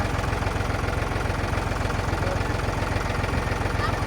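Tractor engine idling in a village, a steady low mechanical rumble with an even, pulsing throb that holds unbroken and fairly loud for the whole stretch.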